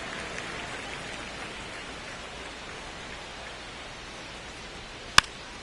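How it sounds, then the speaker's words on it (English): Steady broadband rain hiss fills a baseball video game (MLB The Show 26) ballpark, constant and fairly loud throughout, with one sharp click near the end. "This rain is not letting up."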